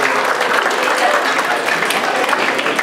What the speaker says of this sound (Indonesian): tepuk sikit.